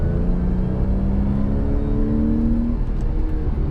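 A 2010 Porsche 911 Carrera's engine holds a steady, humming drone while driving through corners, with a faint rising whine and no voices.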